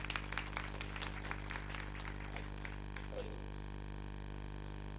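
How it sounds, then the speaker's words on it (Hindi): A small crowd claps for a few seconds at a film trailer launch event, the applause thinning out and fading, leaving only a low background hum. "जोरदार तालियां"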